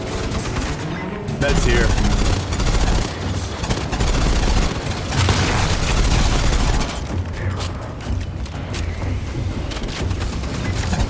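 Rapid gunfire in the Aliens: Fireteam Elite 2 game during a firefight with combat synths, loud dense bursts of automatic fire and booms stacking nearly continuously, with a brief spoken line among the shots.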